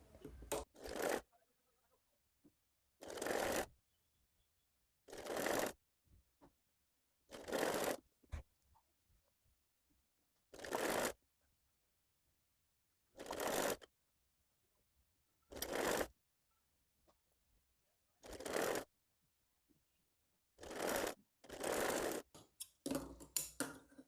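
A sewing machine stitches a fabric strip onto the neckline of a girl's top in short, loud whirring bursts of a second or two, about ten runs separated by quiet pauses.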